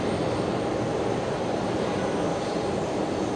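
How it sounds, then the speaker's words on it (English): Steady, broadband roar of an Air New Zealand jet departing Brisbane Airport, sustained and fairly loud at a constant level throughout with no voices. "the second Air New Zealand now heading straight out following the first"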